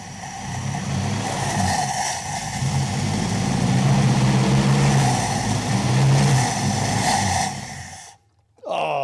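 The Hemi V8 in a crew cab Dodge Charger revs hard close by, a deep throbbing roar rising and holding for several seconds before cutting off abruptly.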